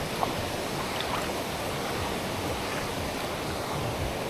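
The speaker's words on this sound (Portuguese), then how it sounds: "Aqui a correnteza é brava" Strong river current rushing in the Pantanal, a steady, dense broadband roar of water that holds constant throughout without pauses.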